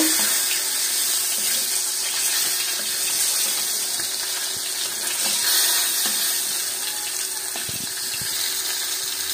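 Koi fish sizzling as they fry in hot oil in a pan for mustard koi curry, a steady loud hiss and crackle filling the whole stretch with no talk.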